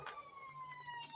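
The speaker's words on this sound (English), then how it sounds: "it sounds like a fire engine or an ambulance" Siren of a fire engine or ambulance passing outside at night, a wavering tone sweeping steadily through the whole stretch, distant and muffled behind indoor room noise.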